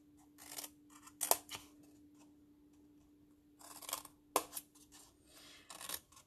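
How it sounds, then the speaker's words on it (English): Scissors snip through folded paper in short bursts of crisp cuts with pauses between, close and fairly quiet, while making a paper pumpkin Halloween treat box. "So then you just cut to your fold line."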